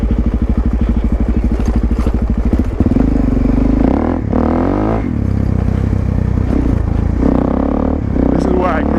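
A supermoto motorcycle rides along small trails, its engine chugging in a rapid loud pulse at first, then revving up and down with rattles and scrapes, close to the microphone while a rider talks over it.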